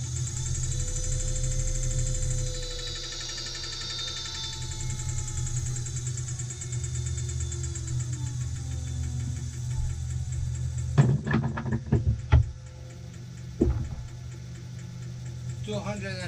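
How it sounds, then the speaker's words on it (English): Lathe running at its lowest speed in a turner's shop, a steady low mechanical hum with a faint ticking rhythm, then a few louder knocks and clatters near the end. "The lathe."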